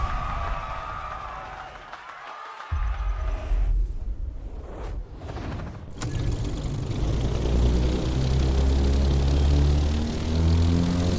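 A propeller plane in The Crew Motorfest racing game builds from a muffled engine drone to a loud, steady propeller roar after a brief break, with faint crowd noise early on.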